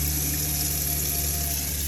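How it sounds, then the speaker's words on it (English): Water runs steadily from a tap in a 2017 Winnebago Era 170A RV with the water pump humming underneath, a continuous, close, even flow with no voices. "my water pump's on, and now I have a nice flow"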